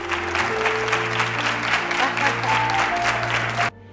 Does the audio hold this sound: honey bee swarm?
no